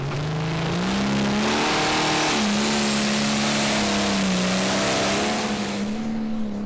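A tractor-pulling competition tractor with an 8.3 litre Power Star engine rated around 1800 horsepower roars loudly and steadily through a full pull, pitch climbing and holding high with no talk over it.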